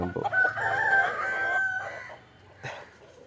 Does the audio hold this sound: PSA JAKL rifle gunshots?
no